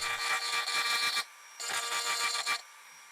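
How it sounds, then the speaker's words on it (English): A carbide burr grinding over metal shims to roughen them for epoxy bonding, heard as two close, loud bursts of rasping abrasion separated by a short pause. "while I use a carbide burr to roughen them"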